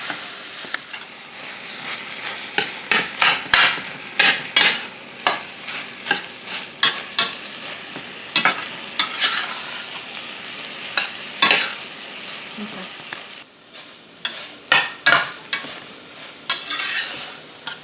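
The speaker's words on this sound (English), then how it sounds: "let's just stir this around and we'll get this browned up for you" Italian sausage browning in a pan, a steady sizzle under repeated scraping strokes of a spoon stirring the meat, close and fairly loud with irregular rhythm and no talking.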